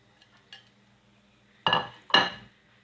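Cheddar cheese being stirred into macaroni sauce in a pot gives two close metallic clanks and scrapes of a utensil against the pot after a near-silent start.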